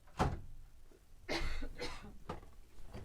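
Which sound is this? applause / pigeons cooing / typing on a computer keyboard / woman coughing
woman coughing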